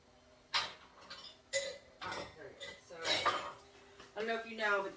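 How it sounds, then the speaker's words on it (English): A small plastic lid being handled and fitted onto a jar of ginger turmeric honey: a run of close clicks, knocks and rattles with short pauses between them, a faint breath or cough among them. "I'll take this and put a lid on it"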